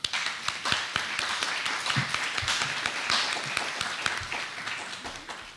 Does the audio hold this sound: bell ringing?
no